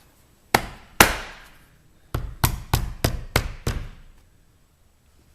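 Plastic snaps and clips of an OEM roof rack on a Ford Escape are pressed into place: two sharp knocks, a pause, then a quick run of five firm taps, close and loud, without voices.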